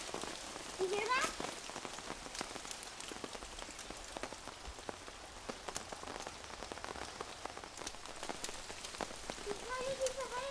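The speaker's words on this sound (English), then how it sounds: "Is it hail? Look, it's hail." Hail pelts the ground outdoors in a dense, steady patter of tiny impacts, with sharper clicks scattered through it and faint voices and a bird chirp in the background.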